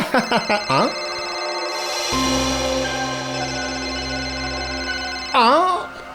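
A phone rings with a sustained electronic ringtone for a few seconds, an incoming call from a wife, with voices speaking just before and after it.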